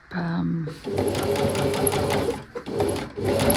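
A sewing machine stitching quilt lines across a botanical hydrangea quilt piece, running in a loud, steady whirring burst with brief pauses, close by, after a voice speaks at the start.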